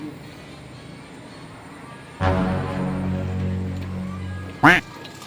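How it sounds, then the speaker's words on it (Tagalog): A duck quacks loudly in a sustained burst with harmonic calls, followed by a short sharp outburst, over background noise and talk. "Duck eh."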